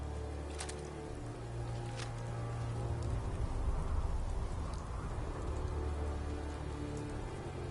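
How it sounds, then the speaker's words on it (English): Steady rain in the Fallout video game patters on surfaces as a soft, continuous hiss with a few sharper drips near the start, swelling slightly midway and holding at a moderate level throughout. "Hope this rain lets up soon."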